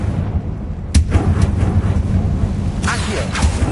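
A Confringo spell blast in Hogwarts Legacy on PS5, heard as a sharp crack followed by several quick impact bursts and a later second burst, all over a steady low rumble of game noise.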